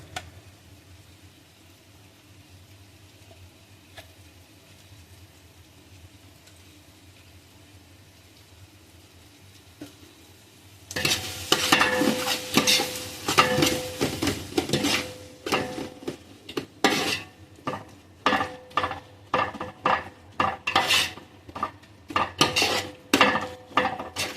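Ground garlic and ginger paste stirred into golden fried onions in a pot for mixed biryani, with a quiet first half, then a spoon scraping and clattering against the metal in loud, repeated strokes.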